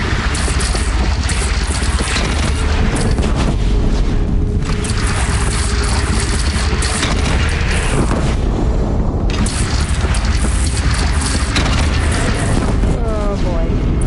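A bridge is brought down by an explosion in the video game Horizon Zero Dawn, with loud continuous booming and rumbling blasts and crashing debris filling the whole stretch.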